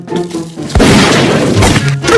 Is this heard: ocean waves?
no